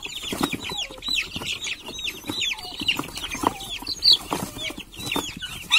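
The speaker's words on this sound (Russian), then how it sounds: "Петух." A flock of chickens with a rooster clucks and chatters continuously outdoors, with busy overlapping calls of varying loudness.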